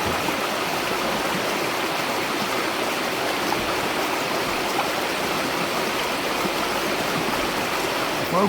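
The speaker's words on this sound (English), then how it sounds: "right on the other side of Site 32 is the river" River flowing beside a campsite at Roan Mountain State Park, a constant rushing wash of water, full and steady throughout, with no voices.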